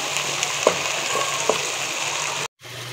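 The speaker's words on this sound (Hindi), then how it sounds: "प्याज को गोल्डन होने तक हमने इसे फ्राई करना है" Onions fry in oil in a pan for mutton karahi, making a steady, loud sizzle throughout with a couple of light stirring clicks and a brief cut near the end.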